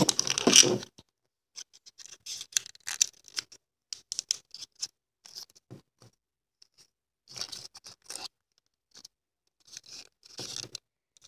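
Scissors snip through material in a quick run of crisp cuts, then pause, then several more bursts of sharp snipping and rustling, close and fairly quiet.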